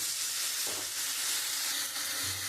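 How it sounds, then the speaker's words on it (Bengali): Ginger, garlic and onion paste hitting hot oil in a pan for a potato and pointed gourd egg curry, giving a loud, dense, continuous sizzle with faint stirring bumps and no talking. "এখানে আমি আদা, রসুন, পেঁয়াজ পেস্ট করে রেখেছি, ওটা দিয়ে দিচ্ছি"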